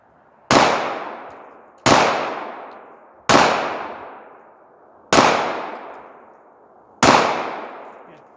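Five sharp pistol shots from a Glock 43 firing Tula 135 gr hollow point rounds into snow outdoors, evenly spaced about one and a half seconds apart, each crack followed by a long ringing decay.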